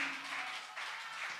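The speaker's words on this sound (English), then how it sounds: "Come on, clap your hands for him." A church congregation at a youth service claps its hands, giving a brief, faint, steady patter of applause heard from a distance.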